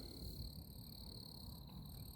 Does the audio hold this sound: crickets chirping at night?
yes